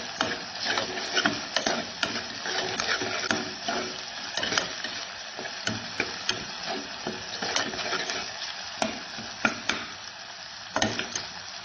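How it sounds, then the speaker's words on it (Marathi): Masala paste mixed with ginger-garlic paste sautés in a pan with a steady crackling sizzle, punctuated by repeated close scrapes and taps of a spoon stirring it throughout. "वाटण आणि आलं लसूणची पेस्ट छान परतलं जाईपर्यंत आपण परतून घेतली"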